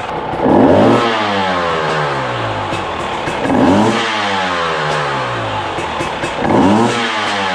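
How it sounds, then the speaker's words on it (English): A 2020 KTM 300 motorcycle engine revs hard three times, close and loud, with the clutch lever lightly pulled during a Rekluse clutch setup, settling back to a rough idle between each rev; no one speaks. "when we rev the motor with a little bit of pressure on the clutch lever"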